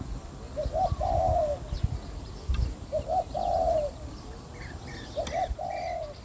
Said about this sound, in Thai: เสียงนกปลา